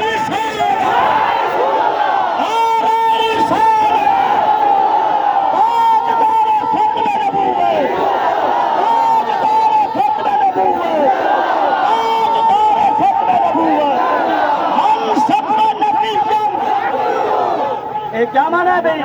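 Large crowd at a religious gathering for Rabi al-Awwal shouting religious slogans in response to a speaker: loud, dense massed voices rise and fall in repeated bursts for the whole stretch, with no quiet gaps.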